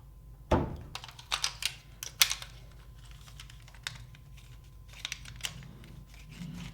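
Plastic on a Nerf Socom blaster is trimmed with a cutting tool, a sharp snap followed by a few small clicks and scrapes of handling, close and fairly quiet with no talk.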